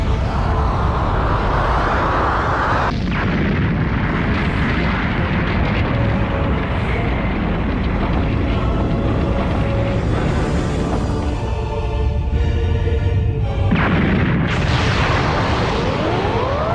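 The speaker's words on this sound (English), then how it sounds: "Oh my, look at the display! Zarbon, Dodoria, are you seeing these brilliant fireworks?" A planet blows up in a Dragon Ball anime scene, a dense, continuous roaring blast with rumbling bursts and crackling debris that stays loud and unbroken throughout, with no talking over it.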